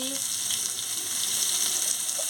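Raw mango pieces with salt frying in a pan for a chutney, a close, even sizzle that holds steady throughout the short stretch.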